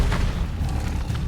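A Confringo fire spell in a Harry Potter wizarding video game bursts as a deep rumbling boom, a sustained low blast that fills the short moment at steady loudness.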